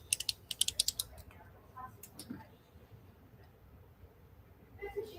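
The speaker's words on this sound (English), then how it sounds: "Does anybody enjoy the sound of clicking pens?" A quick run of sharp clicking from pens being clicked, close and crisp in a fast burst, followed by quieter room noise and faint scattered clicks.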